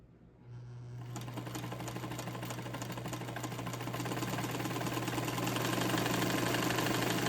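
A Montgomery Ward Signature UHT J260F sewing machine starts up and runs slowly with a steady mechanical hum and rhythmic stitching clatter. The sound is close by and grows slightly louder as it keeps going, with no voices.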